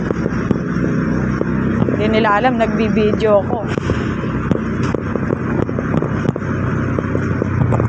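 A motorcycle on the road carries a lone rider, its steady engine rumble mixed with wind buffeting the microphone throughout, while the rider talks over it.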